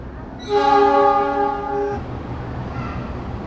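A KRL commuter train at Solo Balapan station sounds a loud, steady horn blast of about a second and a half, then settles into a low rumble from the tracks.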